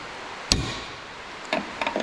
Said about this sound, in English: Now I should be able to get the hammer and finish it off with the drive.